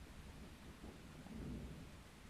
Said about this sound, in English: I need to hide from the thunder.